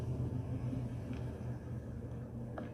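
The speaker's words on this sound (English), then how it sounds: "Me tearing out the muffler off my truck and it sounding pretty freaking good. Take a listen to the idle." A truck idles with its muffler torn off, giving a steady low, throaty rumble with a faint pulsing beat that stays even and close throughout, with no voices over it.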